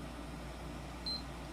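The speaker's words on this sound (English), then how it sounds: "there's the second beep" A PlayStation 3 console gives a single short, faint electronic beep while its power button is held, heard near the end over steady low room hum.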